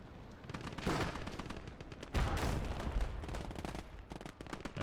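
Gunfire crackles in the World War II game Gates of Hell, with dense rapid bursts of machine-gun and rifle shots that come in waves, fairly quiet and with no voice over them.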